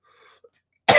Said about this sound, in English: Get this stuff coughed up.